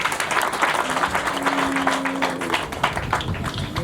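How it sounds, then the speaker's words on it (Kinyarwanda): Audience applause at a ceremony closing a volunteer service month, dense steady clapping sustained throughout at close range with no speech over it. "Mwiha amashyi."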